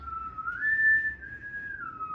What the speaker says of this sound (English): we hear the whistling